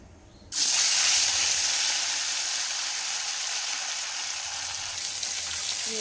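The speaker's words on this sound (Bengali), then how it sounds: "মাছ দিয়ে দিয়েছি, কড়াইতে ভালো করে লাল লাল করে ভেজে নেব।" Fish drops into hot oil in a kadai and bursts into a loud, sudden sizzle that settles into a steady, hissing fry, close and uninterrupted.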